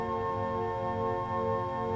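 A quiet swell organ combination on a Hauptwerk virtual pipe organ holds a soft, sustained chord of steady tones, calm and unchanging throughout.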